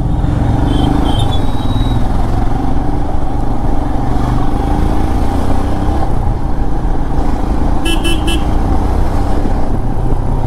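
Dense road traffic hums and rumbles steadily, close and loud, with a short high car horn toot early on and a brighter burst of several quick honks near the end; no one speaks.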